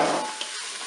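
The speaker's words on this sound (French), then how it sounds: "Je mélange." Carrots being stirred into a bolognese browning in a Cookeo multicooker, a steady close sizzle with a soft scrape of the spoon over one second, no voices.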